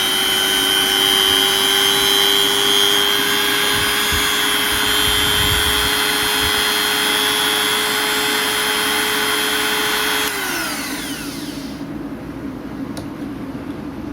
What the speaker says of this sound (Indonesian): untuk gerinda kecepatannya lebih bertambah ya